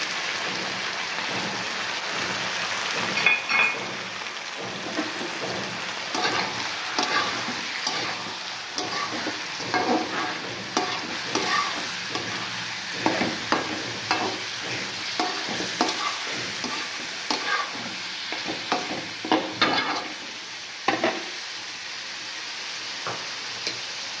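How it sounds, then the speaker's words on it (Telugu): Chicken for a pepper garlic dish frying in a hot pan, continuous crackling sizzle with scraping stirs and clinks throughout, close and steady with no voices. "ఈ స్టేజ్లో మనం చికెన్ వేసుకోవాలి."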